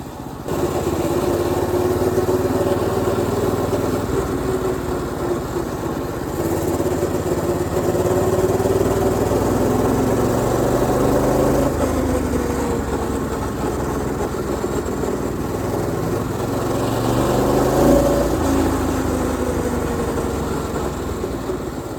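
A mini bike's small engine runs steadily and fairly loud for the whole stretch, its pitch rising and falling as it revs, with a slight rattle in the mix and no talk.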